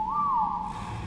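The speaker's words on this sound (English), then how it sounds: "Whistle passive on them" A short rising-then-falling whistle tone used as a command in the game ARK Survival Ascended, sounding alone and clear over a low background hum.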